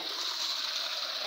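Water runs steadily through irrigation channels cut across a large garden orchard, a continuous close rushing and hissing flow with no breaks.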